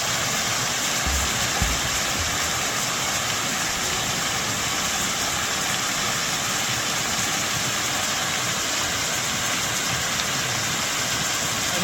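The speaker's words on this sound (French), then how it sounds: "Là avec la cascade" A waterfall in the Gorges du Tarn roars steadily, a loud, dense broadband rush that fills the whole stretch without pause.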